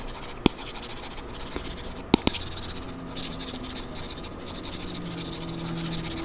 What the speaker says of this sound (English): This paper-like screen protector has a little bit of a grain to it, so it kind of simulates paper, and you can actually hear it